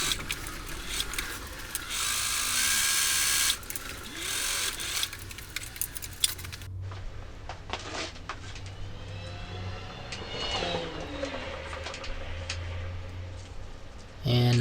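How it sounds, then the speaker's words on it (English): A sewing machine stitches through double-thickness pedal strap material in quiet, rapid bursts with short pauses between runs. A voice talks faintly at times. "now we're gonna sew the double thickness of these together"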